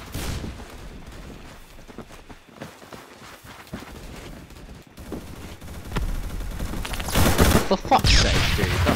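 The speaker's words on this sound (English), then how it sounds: "That's an ugly SMG." Rapid SMG gunfire in the first-person shooter Phantom Forces, bursts of shots crackling over busy game noise and growing louder and denser toward the end.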